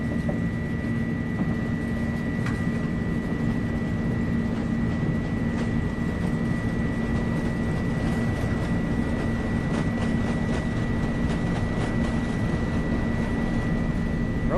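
An Airbus A300-600 makes its takeoff roll at Louisville in Microsoft Flight Simulator, with a steady, even engine roar and a constant whine held under faint ticking clicks throughout.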